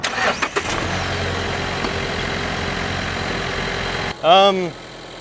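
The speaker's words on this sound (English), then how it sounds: "now let's start the engine." A Mazda CX-5 engine with a 6-speed manual cranks and catches, then settles into a steady idle hum; a brief rising whine sounds near the end.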